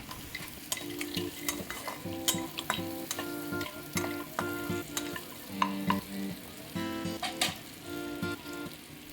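Spinach is stirred and fried with onions and fried lentil dumplings (bori) in a pan, giving steady sizzling broken by repeated sharp scraping strokes of a spatula or spoon, close and clear, with no talking.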